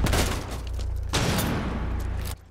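In the Rainbow Six Siege video game, a loud, dense burst of gunfire rolls on for about two seconds before cutting off abruptly.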